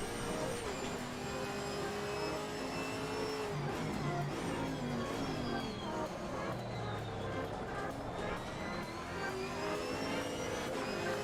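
In Assetto Corsa Competizione, several race car engines in a large grid whine and rev at high pitch, rising and falling as they accelerate, with a continuous buzzing roar throughout.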